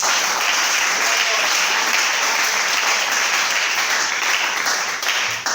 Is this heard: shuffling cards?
no